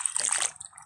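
Malabar spinach stalks being rinsed in water, a short splashing swish of running water that fades to a faint trickle, brief and close with no talk.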